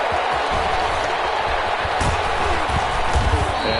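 Dense roar of a big NFL stadium crowd at a Chargers at Lions game, a steady wall of cheering and noise with scattered thumps and a brief swell near the middle.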